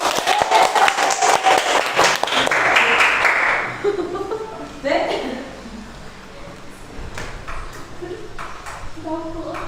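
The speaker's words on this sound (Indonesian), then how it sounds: "Beri tepuk tangan dulu." Applause from an audience in a classroom or presentation setting, a burst of clapping that is loud at first and then tapers off into scattered claps, with voices murmuring underneath.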